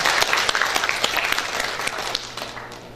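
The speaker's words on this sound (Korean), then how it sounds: "이럴 때는 박수 치는 거예요" Brief burst of applause from a wedding hall audience at a public lecture for engaged couples, a loud dense clatter of hands that slowly fades over three seconds.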